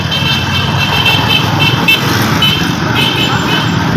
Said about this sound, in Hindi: इस टाइम ट्रैफिक का शोर भी बहुत ज़्यादा होता है